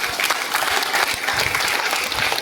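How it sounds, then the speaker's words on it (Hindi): A seated audience at a motivational health talk bursts into loud, dense clapping, many hands together in a busy, steady roar that stays strong throughout. "ताली बजाइए।"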